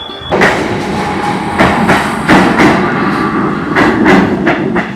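A train rumbles loudly past a station platform at close range, wheels clacking rhythmically over rail joints with a steady, continuous roar.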